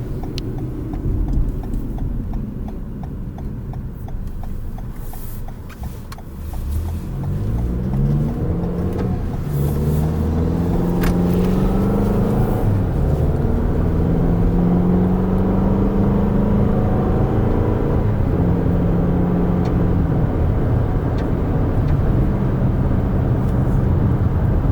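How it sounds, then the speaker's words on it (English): Four-cylinder Toyota RAV4 engine accelerating on the road, a steady low drone that swells and rises in pitch over about twenty seconds, heard from inside the cabin with no talking. "I love the acceleration on this 4-cylinder because you don't think it's a 4-cylinder."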